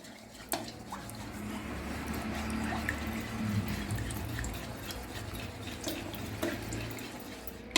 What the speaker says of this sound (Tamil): இந்த 1/4 கப்பு எண்ணெய் ஆயிலை இதோட சேர்க்குறேன்